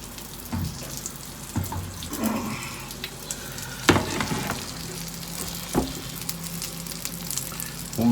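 Chicken frying in a pan, a steady close sizzle broken by several sharp knocks and scrapes of the pan, with no talking.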